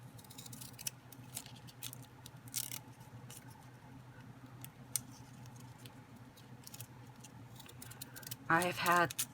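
Scissors snip during a craft project with Cricut foil, glue and score tape, giving a quick burst of close, crisp cuts near the end over a low steady background hum.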